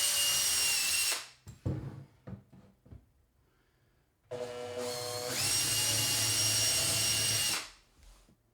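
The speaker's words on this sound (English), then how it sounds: "drill pilot holes and drive in the screws" A power drill whirs in two sustained runs, boring pilot holes and driving screws to fix a drawer slide into the base of a kitchen under-sink cabinet, with short clicks and handling knocks between the bursts.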